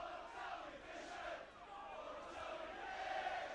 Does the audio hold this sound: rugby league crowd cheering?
yes